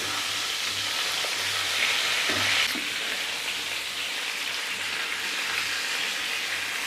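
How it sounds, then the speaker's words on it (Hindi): Chicken malai tikka sizzling in a pan as gravy goes in, a dense continuous hiss and crackle of frying that swells briefly as the liquid is added, close and steady with no voices. "तो अब हम इसमें डालते हैं वही ग्रेवी।"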